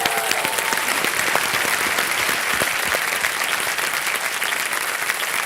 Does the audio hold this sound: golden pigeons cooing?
no